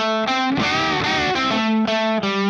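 Heavily distorted electric guitar plays the opening lick of a song, a short repeating riff of punchy sustained notes, loud and up close with no voices.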